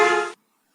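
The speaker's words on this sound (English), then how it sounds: "The horn to you might sound something like this." A car horn sounds once while the car passes a listener standing in the middle of the road. It is loud, harmonic and steady for about a third of a second, then cuts off sharply to silence.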